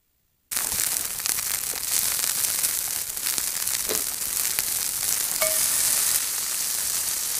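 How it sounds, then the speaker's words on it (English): Campfire crackling outdoors in the rain, a steady dense hiss of burning with scattered sharp pops and snaps, close and continuous after a brief silence at the start. "Now I'm ready to do me up a campfire."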